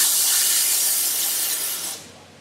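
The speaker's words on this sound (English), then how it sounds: "Then on the side, there's a little pressure release valve." A loud, broad hiss bursts from an air compressor's pressure release valve as it is pulled open, staying steady for about two seconds and then dropping off sharply into a quieter fading hiss.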